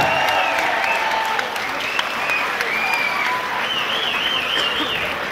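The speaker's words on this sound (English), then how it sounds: "And a big round of applause to your Simon Neale." Crowd at a Supremacy 1 combat-sports event applauds after a third-round submission win, a dense, loud, continuous clapping and cheering that fills the whole stretch with a few higher shouts over it.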